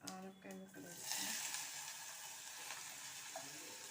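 Bottle gourd pieces drop into hot tempering and sizzle steadily, a broad hiss that holds throughout after a brief voice at the start.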